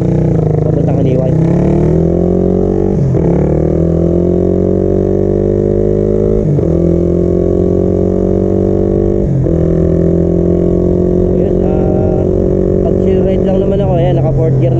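A Suzuki Raider R150 Fi motorcycle engine revs hard as it accelerates on a road ride, loud and close, with its droning pitch climbing repeatedly and dipping briefly at each shift toward fourth gear.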